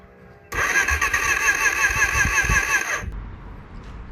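A project quad ATV, left sitting for three years, cranks and fires up: a loud, steady engine roar starts abruptly, runs for about two and a half seconds and then cuts out, leaving quieter background noise.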